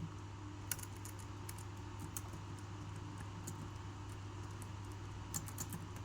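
Someone types program input on a computer keyboard, producing quiet, scattered keystroke clicks over a low steady hum.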